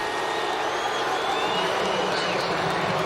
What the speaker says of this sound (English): Crowd didn't exactly like the celebration